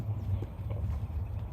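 Hoofbeats of a jumping horse cantering in an arena, a steady rolling clip-clop rhythm at moderate distance, fairly quiet and heard without talk.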